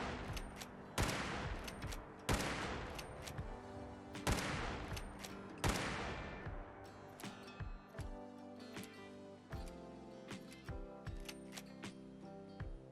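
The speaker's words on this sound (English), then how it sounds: "this actually uses the vanilla sounds for the lever action rifle" Lever-action Winchester rifle firing in Fallout 4, several loud sharp shots spaced a second or so apart, each followed by a ringing tail, then quicker mechanical clicks and clacks of the lever cycling.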